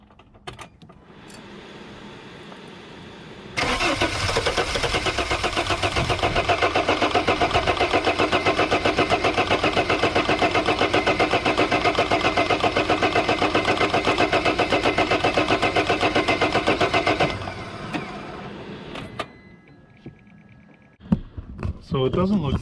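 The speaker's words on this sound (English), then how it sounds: "Now we're going to turn the engine over for 10 seconds." A 2006 Mercedes T1N Sprinter diesel cranks for about fourteen seconds without firing during an injector leakback test, a loud, even, rapid starter whir that stops abruptly, with quieter shop noises before and after.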